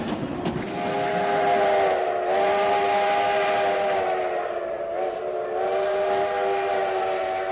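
Train on the mountain line climbing from Durango toward Silverton, heard as a steady, sustained rumble with a prolonged whistle tone held over it throughout, loud and continuous with no speech.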